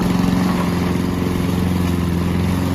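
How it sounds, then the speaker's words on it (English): A push lawn mower cutting grass, its engine droning loud, close and unbroken throughout with a steady, buzzing hum. "It's good time to cut the grass in the cool day."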